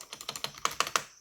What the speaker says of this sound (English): the keys on this thing appear to be mechanical membrane-like switches, which is just like a clicky mechanical keyboard, but it is a little quieter and mushier